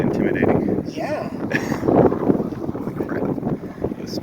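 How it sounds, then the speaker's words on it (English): Strong gusty wind buffets the microphone on a very windy day outdoors, a steady roaring rumble across the whole clip with people talking over it. "Crazy windy day."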